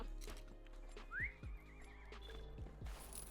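A goat mount in The Lord of the Rings Online video game gives a single rising, wavering cry over a run of clip-clopping hoofbeats, moderately close and without talk.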